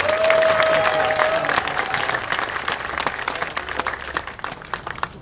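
A crowd claps steadily in sustained applause at a mayor's public launch event, gradually thinning out and fading toward the end.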